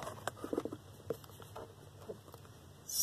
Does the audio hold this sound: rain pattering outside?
yes